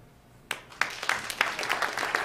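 A comedy show audience answers a question from the stage with applause that starts from near quiet, a few sharp claps coming first before more people join into steady, moderately loud clapping.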